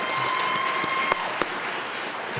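An audience at a university leadership awards ceremony gives a round of applause, a steady hiss of many hands clapping with a couple of sharper claps standing out near the middle.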